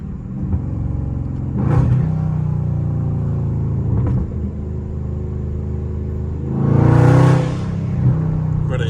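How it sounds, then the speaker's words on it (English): A Dodge Scat Pack engine rumbling steadily up close through traffic, with a couple of louder swells of revving and a strong echoing roar near the end, no talk over it. "the echo of my car is crazy"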